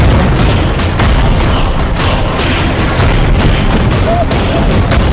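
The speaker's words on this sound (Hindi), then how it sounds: "जैसे ये गाड़ी देखिए, जिसके धमाके ने बताया कि उसमें कितने खतरनाक हथियार भरे हुए थे।" A vehicle loaded with weapons exploding during an airstrike in the Israel-Hamas war in Gaza, heard as a loud dense rumbling blast with repeated crackling bursts and pops, continuous and harsh throughout.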